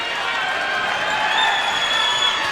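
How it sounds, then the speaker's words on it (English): Fans at a high school basketball game between Wadsworth and Tallmadge cheer for a foul, a loud, steady crowd roar filling the gym without a break. "And the Tallmadge fans cheer for the"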